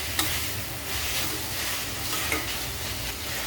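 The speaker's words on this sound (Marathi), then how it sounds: "आणि व्हिनेगर चांगलं मिक्स करून घेऊया" Vinegar being stirred into a sizzling sauce in a hot pan for homemade hakka noodles, heard as a loud, steady frying hiss with a couple of faint scraping stirs, no talking.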